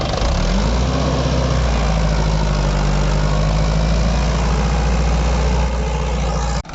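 A Mahindra 585 XP Plus tractor, several months old and hitched to an 11-tine tiller, runs loud and close in first gear near 2000 rpm, a steady dense diesel drone that holds evenly before cutting off abruptly at the end.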